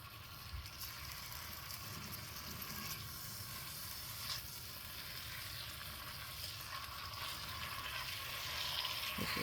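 Italian sausage fries in a soup pot with a steady, dense sizzle that holds close and continuous, growing slightly louder toward the end, with a faint clack partway through.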